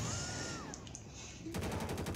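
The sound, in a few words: gunfire in the video game GTA 5 LSPDFR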